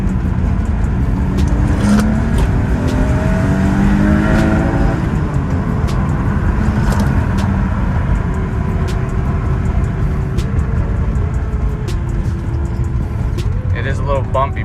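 A Dinan-tuned BMW M3 on coilovers accelerates hard in second gear, its engine note rising through revs over heavy road rumble, heard from inside the car with someone talking over it.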